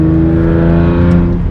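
A modified Hyundai Genesis Coupe 3.8 R Spec V6 holds a loud, close, steady engine drone with a strong low hum and a slight rise near the end.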